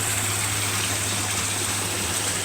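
An ice-cold creek with swimming holes rushes steadily along the Appalachian Trail, a loud, close, continuous gush of flowing water with no voices.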